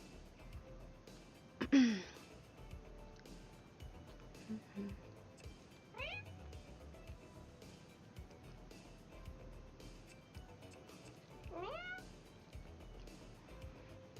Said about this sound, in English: I think I'm gonna have to turn down those cat sounds.